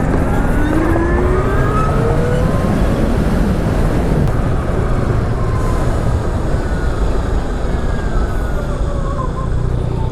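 A Zero SR electric motorcycle on a test ride gives a continuous whirring motor whine with shifting pitch, heavily buffeted by wind rush throughout, with no talk.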